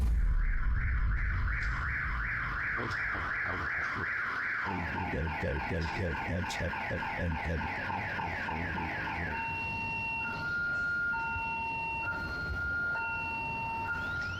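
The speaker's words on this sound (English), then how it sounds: "footage of a wheelchair that activated a house alarm" A house alarm set off by a moving wheelchair blares loud and steady, cycling through rapid warbling tones and then shifting into a pattern of repeated beeping pulses.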